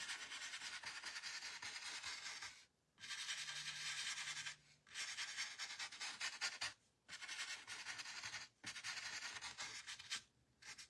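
A finger rubs and smooths a coating over a craft piece in a home workshop, giving close, soft scratchy swishing strokes in repeated bursts separated by brief silent gaps.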